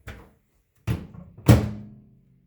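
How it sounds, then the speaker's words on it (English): A dish is set into a microwave and the door shuts, giving three separate thunks and knocks, the last a firm close with a brief ringing tail, alone in a quiet room. "And then put it back in the microwave"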